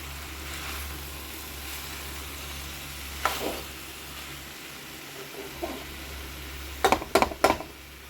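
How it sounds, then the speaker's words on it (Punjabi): Vegetable curry sizzling in a pan after a tadka, a steady low hiss with occasional stirring and a quick cluster of sharp utensil clatters near the end, close with no talking. "ਤੜਕਾ ਮੈਂ ਲਗਾ ਦਿੱਤਾ ਹੈ ਸਬਜ਼ੀ ਮੇਰੀ ਬਣ ਰਹੀ ਹੈ"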